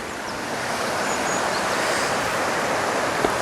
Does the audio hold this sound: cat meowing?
no